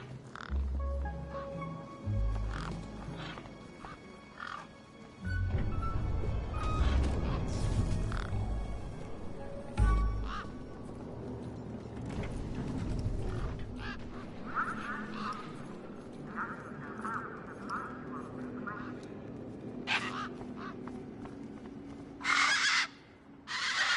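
Tough desert birds in the video game Beyond a Steel Sky, squawking and honking in a series of harsh, uneven calls over a quiet game soundscape.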